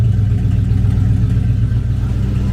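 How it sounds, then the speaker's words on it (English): Big block engine in a Dodge Daytona Charger rumbling with a deep, steady exhaust note, loud and close throughout with slight throttle variation and no talking. "it's got a good exhaust note."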